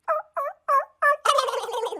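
A person imitates a wild turkey with a call, giving four short, evenly spaced yelps followed by a rapid rolling gobble, close and clear with no speech.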